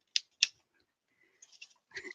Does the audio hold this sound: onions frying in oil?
no